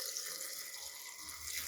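Medium-warm water pours into a jar, a quiet, close trickling splash that runs steadily for a couple of seconds without any talk.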